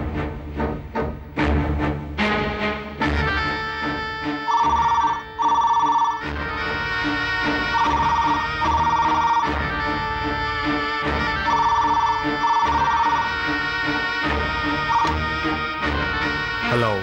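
A telephone rings repeatedly in bursts over background music, a bright electronic ring pattern recurring several times at moderate loudness.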